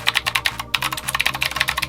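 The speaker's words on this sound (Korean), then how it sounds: "키 사운드 역시 타자기를 치는 것과 같은 느낌이 들기도 합니다" Rapid, steady typing on a LOFREE retro Bluetooth mechanical keyboard with clicky blue switches, each keystroke a sharp, loud, close click in a fast continuous rhythm like a typewriter, with no talking.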